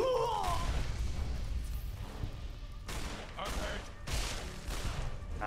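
Gunshots in the video game Fallout: New California, loud booming shots in close succession with heavy low rumble, followed by more scattered blasts.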